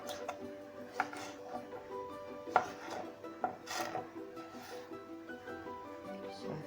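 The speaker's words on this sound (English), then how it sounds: "We're just kind of cutting them in big chunks to drop them in the crock pot" A knife cuts vegetables into big chunks for a crock pot, giving soft, irregular knocks and thuds on a cutting board. The sounds are quiet and spaced out, with a slightly sharper strike about midway.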